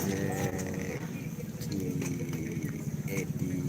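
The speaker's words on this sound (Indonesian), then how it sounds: "Kayaknya ada sapi yang mau dilepas Mega Bintang agar dia tidak ketinggalan." Cattle at a bull-racing training field for kerapan sapi in Pamekasan, with lowing and livestock sounds mixed into a busy outdoor crowd and nearby talking.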